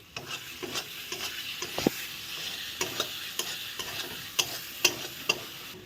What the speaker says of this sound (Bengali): এক চামচ কাশ্মীরি লঙ্কার গুঁড়ো দিয়ে ভালো করে এখন নেড়ে দেবো